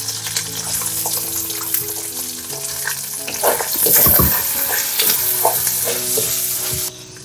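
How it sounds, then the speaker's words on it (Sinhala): Garlic, ginger, cinnamon, pandan, curry leaves and spices frying in an oil pot for fish themparaduwa, a close steady sizzle with stirring clatter, swelling briefly as ingredients go in. "අපි දැන් තෙල් හට්ටියට සුදු ලුණු ටික එකතු කරනවා."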